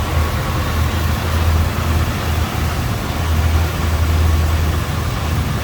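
Steady, loud idle of a 1967 Ford Galaxie 500 XL convertible's 390 V8 with a four-barrel carburetor, a deep even rumble heard close up in the open engine bay with no one talking.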